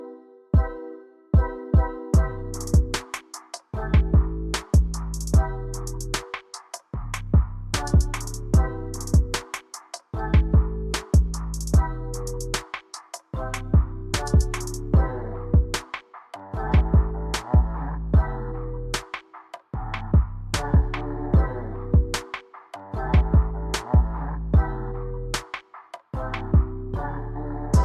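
Hip-hop music plays through JBL Tune Flex 2 earbuds, a punchy looping beat with deep bass hits and layered synth chords in clear, regular bars, with no one talking over it.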